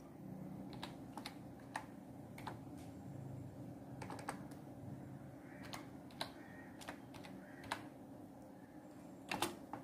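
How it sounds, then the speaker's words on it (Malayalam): Faint clicks of typing on a computer keyboard come in scattered single keystrokes and short bursts over a low steady background hum. "എന്തെങ്കിലും ടൈപ്പ് ചെയ്ത് എടുക്കാം"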